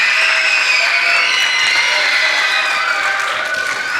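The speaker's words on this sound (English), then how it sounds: "can you give a huge round of applause to them as well as being part of this team?" A school theatre audience at a Grade 4 theatre festival claps and cheers for the performing team, a dense, sustained wash of applause filling the hall throughout.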